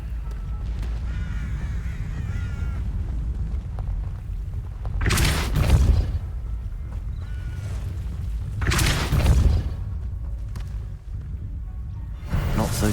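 A Depulso spell cast in Hogwarts Legacy lands as two loud, sharp magical blasts several seconds apart, each a bright whooshing burst rising over a steady low rumble of game ambience.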